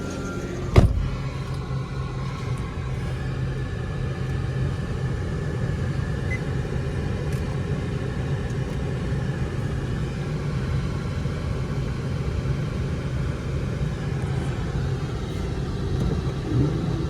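Deep steady engine rumble from an Infiniti G35 with a muffler delete, idling at a work shop, a low continuous drone with one brief knock near the start and no talking.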